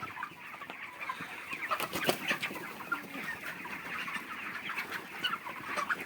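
Farm chickens cluck steadily in a dense flock, overlapping calls close and moderately loud, with a few sharper squawks standing out around the second and third seconds.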